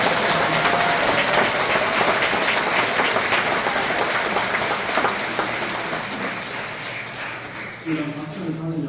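A church congregation at an Easter Vigil Mass breaks into sustained applause, a dense, even wash of many hands clapping that fades slightly toward the end, with a voice speaking over its tail.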